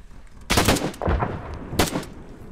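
Gunfire from the military game Arma 3, with two loud bursts of shots and a rattling follow-up between them, close and sharp, no talk.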